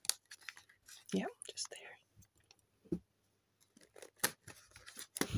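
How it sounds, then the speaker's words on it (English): Scissors snip through packing tape wrapped around a boxed doll, giving a few close, sharp cuts and rustles amid soft whispered talk. "My trusty scissors."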